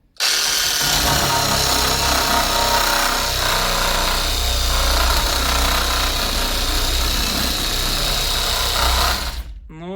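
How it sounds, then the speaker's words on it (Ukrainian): An AL-KO cordless reciprocating saw cuts into brick, a loud, continuous buzzing rasp that runs steadily for several seconds before stopping abruptly, heard alone and close. "пробуємо, як буде цеглу різати."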